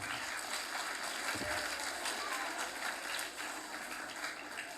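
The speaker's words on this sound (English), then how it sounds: "A huge round of applause for yourselves" Steady applause from a large crowd, continuous clapping lasting several seconds before tapering slightly.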